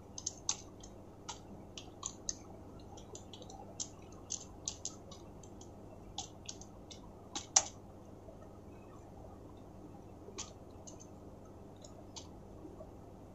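Typing on a computer keyboard while entering text for a bio-data document gives sparse, soft, quiet clicks and taps in irregular bursts over a low steady hum, with no talking.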